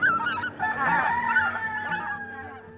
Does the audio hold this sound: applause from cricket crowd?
no